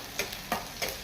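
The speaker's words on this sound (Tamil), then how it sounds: "நல்லா வதக்கி விட்டுறணும்" Ingredients for a Tamil egg curry are sautéed in a pan: three evenly spaced spatula scrapes rise over a soft, steady sizzle, close and fairly quiet.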